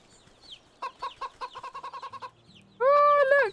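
A rooster in the video game Wytchwood gives a quick run of loud, evenly spaced clucks, then a short sustained crow-like call at the end, with no talk over it.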